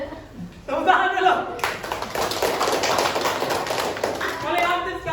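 A classroom of vocational high school students clapping hands, a burst of brisk claps rising after a short pause and continuing steadily under voices and chatter throughout.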